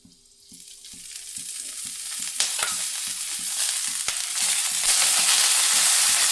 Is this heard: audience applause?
no